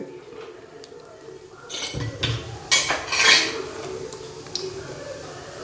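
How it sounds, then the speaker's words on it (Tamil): Urad dal frying in oil in a pan for mint-onion chutney gives a soft bubbling sizzle, broken by a few metallic clinks and scrapes of a utensil against the pan. "எண்ணெயில் நல்லா உளுத்தம் பருப்பு பொரியுது"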